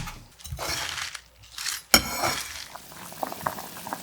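Broth bubbling and simmering in a pot as chopped chives are added, with a few clinks of utensils and a sharp knock partway through.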